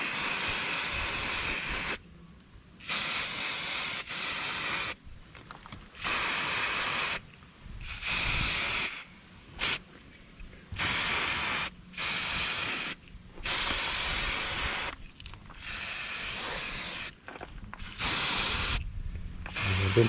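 Aerosol paint hisses in about a dozen bursts of one to two seconds onto a Peugeot 407 rear brake caliper carrier, close and steady with short quiet gaps between passes.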